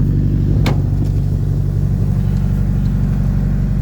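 A car's exhaust, fitted with a MagnaFlow resonator and a Carvin muffler, rumbles steadily at idle, deep and loud, with a brief sharper burst early on.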